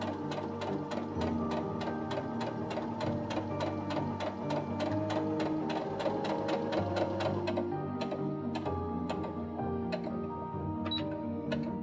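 A sewing machine with a flat felling presser foot stitches a seam, a fast steady mechanical rattle of evenly spaced needle strokes over a motor hum, close and continuous, slowing slightly near the end.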